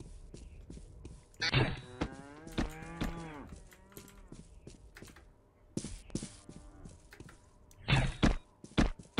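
Cattle mooing in the video game Postal 2, several loud drawn-out moos with clear wavering pitch, separated by gaps filled with thumps and footsteps.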